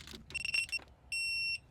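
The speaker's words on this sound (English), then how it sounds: "So I'm just going to do this until it beeps at me and tells me I'm there." A digital torque wrench set to about 11 foot-pounds, working on a Ford Ranger Raptor transfer case, gives a few short stuttering beeps among faint clicks, then one solid steady beep of about half a second, close and fairly quiet.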